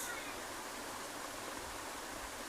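Water runs steadily into a bucket set out for washing clothes at home, a continuous close, even rushing splash that does not let up.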